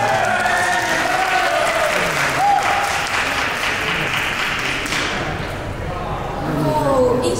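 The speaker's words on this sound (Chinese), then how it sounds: "掌声鼓励一下" Lively applause from an audience at a Christmas book-signing event welcoming a new member, a dense sustained clatter of clapping hands that swells and eases over several seconds, with voices mixed in.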